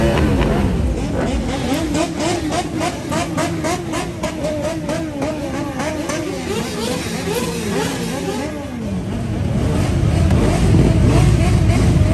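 Motorcycle engines roar continuously at the 2023 Spanish MotoGP Grand Prix in Jerez de la Frontera, their pitch rising and falling as bikes rev and pass, building to a louder rumble near the end.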